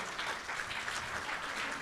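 Steady audience clapping at an animal welfare conference luncheon, a moderately loud even wash of many hands with no voices over it.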